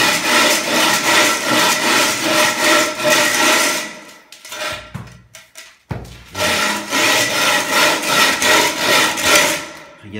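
A 1.5 m screeding rule drags across a floor screed in a long, loud, steady gritty scrape, breaks off briefly with a few knocks, then resumes, close up.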